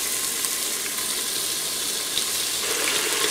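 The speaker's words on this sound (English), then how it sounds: "I'm going to get in here and brown it up, and I'm going to season it with salt and pepper as it browns in the pressure cooker" Stew beef browning in a pressure cooker for goulash, giving a steady broadband sizzle and hiss throughout at moderate level, with no talking.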